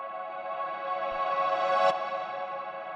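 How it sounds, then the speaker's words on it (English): A reversed grand piano chord from Ableton's stock instrument swells steadily in loudness and cuts off abruptly just before two seconds, followed by a sustained ringing tail, heard alone. "So what this is it is literally just Ableton's grand piano,"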